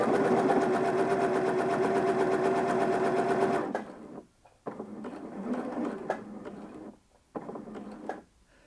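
A sewing machine stitches a bar tack, running in a steady, fast mechanical whir for a few seconds, then in short start-stop bursts, close and alone.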